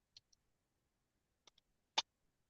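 A computer mouse clicks sparsely while a CNC mixer program is being operated: a few light clicks, then a sharper louder one, in a quiet room.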